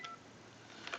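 Sony SPP-ER101 cordless telephone handset sending keypad dialing tones during repair testing, two short faint beeps about a second apart over a quiet hiss.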